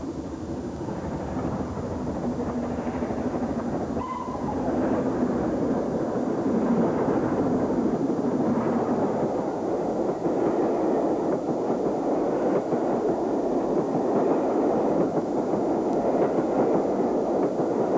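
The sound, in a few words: S-15 steam locomotive hauling Southampton to Salisbury train in heavy rain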